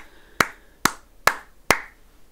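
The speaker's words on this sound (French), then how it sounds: "Nous pouvons nous applaudir très très fort." Four sharp, evenly spaced hand claps ring out one after another, crisp and close, with no talking around them, during a livestream of The Sims.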